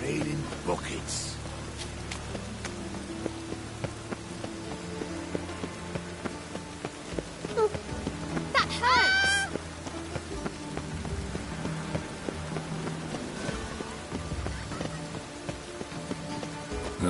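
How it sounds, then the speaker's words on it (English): Heavy rain pours in a video game as a dense, steady wash of drops. Music tones and a few game effects rise over it midway, with no one speaking. "It's raining buckets."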